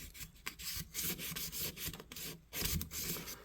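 Rapid back-and-forth rasping strokes scrub rust from the liners of a Hammer Brand cattle knife, close and quiet, in an uneven rhythm of short rubbing passes.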